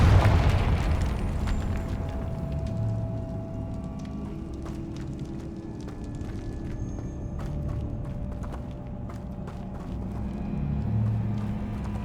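The Confringo fire spell in Hogwarts Legacy erupts with a heavy boom at the start, its deep rumble decaying into a long low roar with scattered crackles and debris clatter, no voices.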